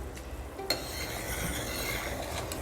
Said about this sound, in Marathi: लिंबाचा रस पिळू म्हणजे आपल्या पाकामध्ये साखर जमा नाही होणार एक उकळी काढू मोठी